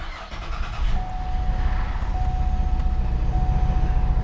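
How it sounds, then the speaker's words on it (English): A Chevy 3.6 V6 engine with a new throttle body fires up and settles into a loud, close, steady idle with a rough low rumble and a faint thin whine over it. "this is the first start up on the new throttle body."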